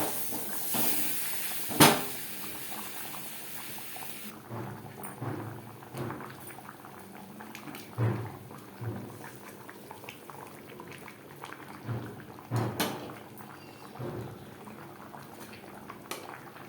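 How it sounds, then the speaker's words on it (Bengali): Chicken biryani gravy bubbling in a pot, a steady soft boil with irregular pops and gurgles, fairly close and unaccompanied, with a brief sharp clatter near the start. "গ্রেভি বেশ ভালো করে ফুটতে শুরু করে দিয়েছে"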